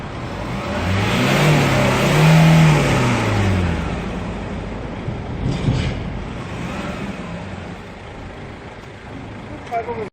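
A Kia Carnival's engine revs up and pulls away after a power-boosting, emissions-reducing device is fitted, a loud rising drone that swells and then settles into steady driving noise, with people talking over it.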